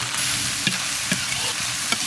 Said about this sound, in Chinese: 先炒洋姜丝儿，洋姜炒一层，下入肉丝儿粉条